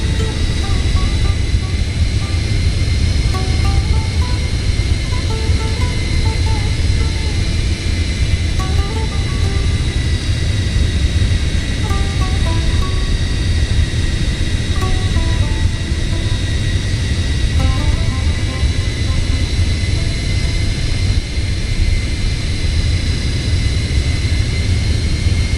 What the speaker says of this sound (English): This should be our final circuit on the holding pattern.